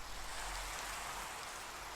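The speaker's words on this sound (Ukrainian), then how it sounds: "І дощ пішов." Rain falling in Minecraft, a steady dense hiss of rainfall that keeps an even loudness throughout, with no voices.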